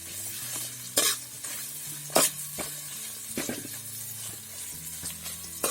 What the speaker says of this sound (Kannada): ಚೆನ್ನಾಗಿ ಫ್ರೈ ಆಗಬೇಕಿದು.